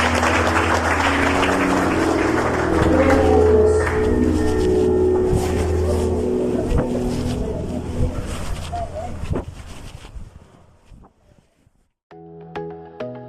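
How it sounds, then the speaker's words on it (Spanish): Loud applause fills the space for several seconds, mixed with other sounds, then fades out before a brief electronic tone. "Démosle unas fuertes palmas al Señor esta noche."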